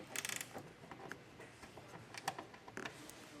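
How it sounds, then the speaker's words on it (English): A 10mm ratcheting wrench backs a bolt off a 2021 Jeep Grand Cherokee during a trailer hitch install, giving faint, irregular metallic clicks over quiet background noise. "I'm going to get a 10mm ratchet here, ratcheting wrench, and get this bolt removed."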